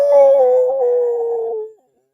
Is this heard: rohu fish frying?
no